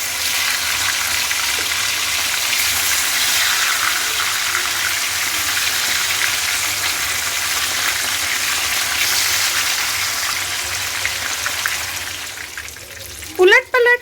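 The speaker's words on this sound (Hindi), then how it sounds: "उलट पलट करते हुए आप मछली को फ्राई कर ले।" Fish frying in mustard oil, a steady loud hiss and crackle of sizzling that runs continuously, with a few brief clattering sounds near the end as the pieces are turned.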